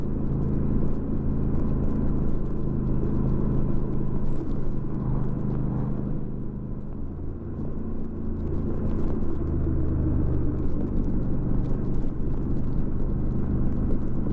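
A motorcycle engine drones steadily after a downshift to third gear at about 32 mph on a road with curves. The low rumble holds an even, loud level throughout, with no talking.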